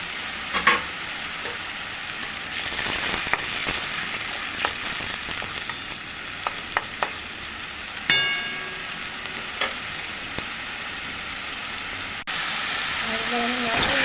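Ginger-garlic paste frying in a pan, a steady sizzle punctuated by scattered scrapes and clinks of a spatula stirring it, close, with a louder burst of hissing near the end.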